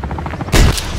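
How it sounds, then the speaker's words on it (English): A SAM turret in Call of Duty Modern Warfare 3 fires at a helicopter: a short loud burst of launch and blast noise cuts in halfway through, over steady in-game background noise. "SAM turret attack. It will need a clear shot on the helo."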